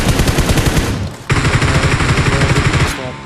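Automatic gunfire sprays in the mobile battle-royale game PUBG Mobile, a loud, rapid, unbroken stream of shots with a short gap before the firing resumes and runs on.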